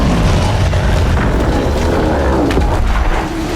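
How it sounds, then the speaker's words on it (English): A loud, rumbling blast from the Norwegian film Troll, a mysterious explosion deep in the mountains, sustained as a dense low roar with crackling debris for several seconds before cutting off. "The story begins with a mysterious explosion deep in the mountains of Norway"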